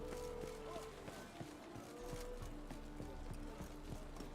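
Geralt's horse in The Witcher 3 trots through a city, hooves clip-clopping in a quick, even rhythm over a soft background of game music and ambience.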